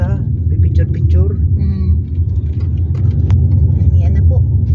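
Car traffic rumbles along a road in Tagudin, Ilocos Sur, a continuous low engine drone of passing vehicles heard from inside or beside a vehicle, with people chatting over it.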